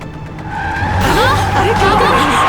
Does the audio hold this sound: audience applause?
no